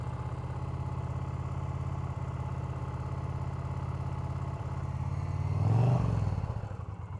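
A motorcycle engine idles steadily close by during a riding practice session, with a low, even chug that swells briefly as the throttle comes up near the end, then settles back.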